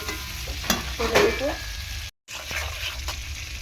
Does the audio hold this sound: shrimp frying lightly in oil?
yes